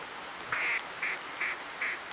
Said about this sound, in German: Über uns sind gerade Enten weggeflogen.